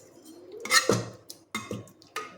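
The lid of a cooled pressure cooker holding cooked dal comes off with a sliding scrape, then a few distinct metallic clanks and clinks from the steel pot, close by.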